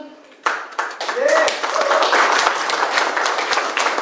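An audience at a company presentation gives a modest round of clapping, steady and fairly close, while a voice talks over it.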